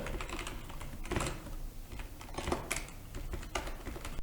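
Someone typing a MySQL query on a computer keyboard, irregular clusters of quick key clicks with a few heavier strikes, close up and quiet.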